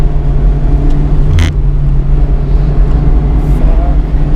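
A Mazda Miata MX-5 RF ND Club drives along, heard from inside as a steady, loud low engine and road rumble with a brief burst of noise near the start.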